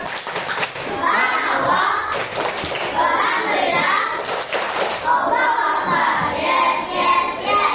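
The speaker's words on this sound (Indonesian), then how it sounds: "Jadi, kita akan bermain tepuk semangat." Children in a classroom join in a rhythmic clapping chant game before an IPAS science lesson, bursts of hand claps and young voices repeating in steady patterns, close and lively throughout.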